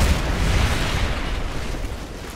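A missile blast in Call of Duty: Modern Warfare 3 gameplay, a loud sustained rumbling boom with a broad noisy roar that fades slightly over two seconds, with no voices over it.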